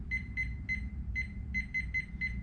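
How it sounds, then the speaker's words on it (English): Thermoworks meat probe thermometer sounding its high-temperature alarm: a quick series of sharp electronic beeps in pairs and clusters, clear and close over a low background hum. "so it'll go ahead and sound the alarm right now."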